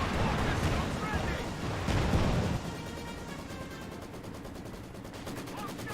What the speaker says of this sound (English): We have white phosphorus and incendiary barrage